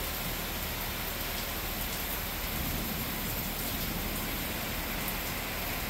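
Steady rain falls during bad weather in South East Georgia, a dense, even hiss of drops on surfaces that carries on without a break for the whole stretch, with no voices.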